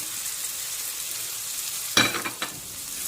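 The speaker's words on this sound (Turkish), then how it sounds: "arkadaşlar salçamı kavurdum. Şimdi ıspanak başına ekliyorum." Spinach stems drop into fried tomato paste in a pan, bringing a burst of sizzling and stirring scrapes after a steady quiet frying hiss, then settling back to a low sizzle.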